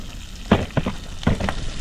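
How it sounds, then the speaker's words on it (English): Saltfish and scotch bonnet peppers fry in a pan, giving low steady sizzling broken by a few sharp crackling bursts and stirring clatters, close and moderately loud, with no talking. "Let them fry up with the saltfish."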